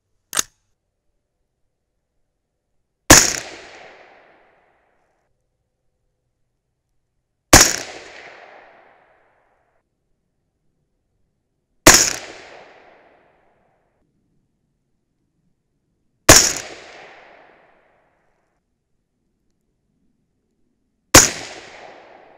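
.223 Remington rifle shots firing Hornady V-Max loads ring out one at a time, five loud sharp cracks spaced about four to five seconds apart, each with a short fading echo, and no talking.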